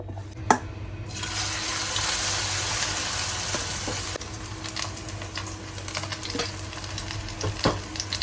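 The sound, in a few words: frying loofah batter pancake in hot oil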